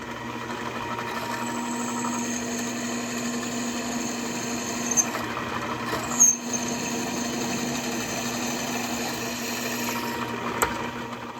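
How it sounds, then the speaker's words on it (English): A power drill whines steadily for several seconds, with a few brief clunks and bumps as it bites through the material, drilling holes in a motorcycle part. "put a couple dots, and then drill the holes"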